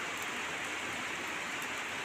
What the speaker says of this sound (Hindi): देखो बारिश, मस्त वाली बारिश आने लगी है, ज़बरदस्त बारिश।